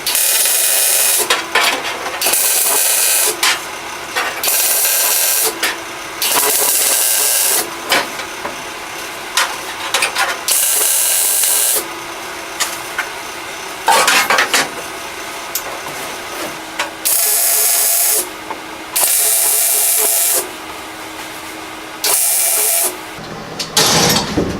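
Bursts of spot welding on a steel panel inside a car wheel well during a rocket car restoration, loud crackling hisses of a second or two each repeating steadily with short pauses between, close up and without talk.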